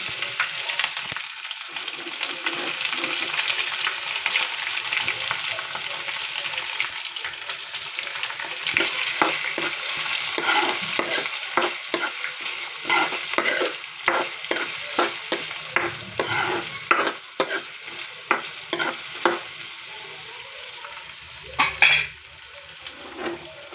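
Onion frying in oil in a pan while a spoon stirs it steadily, producing a continuous loud sizzle with repeated scraping and clinking strokes and no voices.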